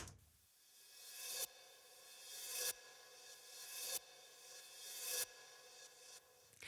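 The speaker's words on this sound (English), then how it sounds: "But I did want to talk about those reversed hi-hats." Reversed hi-hats swell up and cut off abruptly in a regular rhythm, each rush trailing into delayed echoes, quiet and airy.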